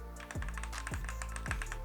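Steady clacking keystrokes on a Bloody S87 mechanical keyboard with PBT keycaps run at a brisk, even pace. The typing is close and clear, with no talking.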